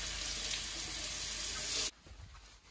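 Water runs steadily from a kitchen tap during dishwashing, a loud, close hiss that cuts off abruptly near the end, leaving faint room noise.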